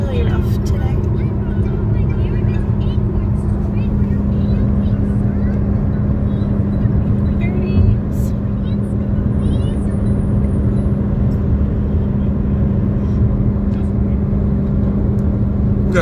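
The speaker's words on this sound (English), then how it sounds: "Too bad the car sounds so freaking loud." A loud car heard from inside while driving, with a steady low engine and road drone running throughout, no pauses, at a constant close level.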